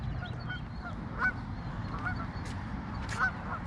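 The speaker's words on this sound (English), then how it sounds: "See, now we got ducks all over the place." Waterfowl at a pond give scattered honking calls, several short squawks over a steady outdoor background, moderately distant.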